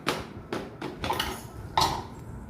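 A manual onion chopper, a twist-operated kitchen gadget, gives several separate plastic-and-metal clacks and clinks in an uneven rhythm, close by and moderately loud, with no talking.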